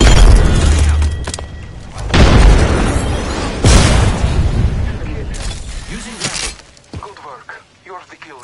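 A frag grenade goes off in a video game with a loud booming blast, followed by more explosive bursts and crackling gunfire-like impacts. Game voice lines and talking run over the action.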